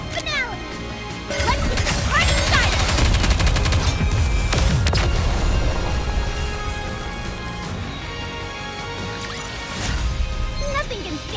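Loud, sustained bursts of gunfire from the Goddess of Victory NIKKE game during a RED ASH event battle, with rapid overlapping shots and crashing impacts layered over dense combat noise, plus a voice speaking.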